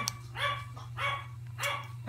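Several dogs barking in agitated bursts at a nearby lawnmower, three clear volleys of barks over a steady low engine drone in the background.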